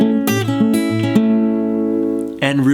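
A rockabilly fingerstyle line on guitar is played at full speed: a quick run of plucked notes over a bass pattern, with a short sustained chord ending.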